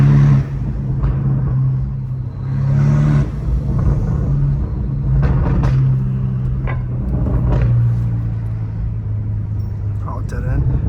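A BMW M5 Competition with a catless exhaust drives along a quiet dead-end street, its deep engine rumble droning steadily close by with a few throttle swells, while someone talks over it throughout.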